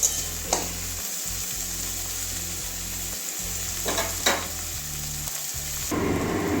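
Sliced onions sizzle steadily in hot oil in a pan for stuffed kakrol, a loud continuous crackle broken by a few sharp scrapes of a stirring spoon.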